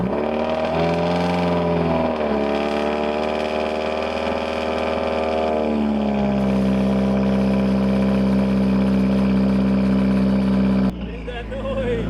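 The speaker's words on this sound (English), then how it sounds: "We're gonna get the cold start." A BMW M3 engine cold starts, cranking and catching, revs high and uneven, then settles into a loud steady idle before abruptly shutting off.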